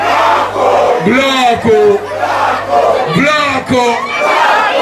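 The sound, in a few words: crowd shouting a chant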